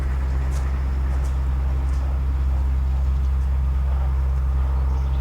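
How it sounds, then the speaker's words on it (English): Cars race by on a country road, heard as a steady, continuous traffic rumble with a low drone and faint passing hiss, no voices. "cars racing by"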